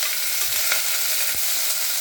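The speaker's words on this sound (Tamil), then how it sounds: "கொஞ்சம் இஞ்சி பூண்டு பேஸ்ட், கருவேப்பிலை லைட்டாக வறுத்துக்கணும்." Ginger garlic paste and curry leaves fry in a pan with a close, continuous crackling sizzle, punctuated by a few light knocks of stirring.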